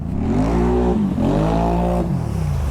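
A Can-Am XMR 700 four-wheeler engine revs loud and close, its harmonic tone dipping briefly twice and climbing again in a sustained, throaty roar.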